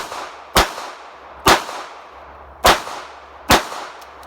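Four loud, sharp gunshots from a small backup revolver, fired about one second apart. Each crack is followed by a brief ringing tail, and no voices are heard.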